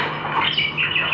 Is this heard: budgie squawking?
yes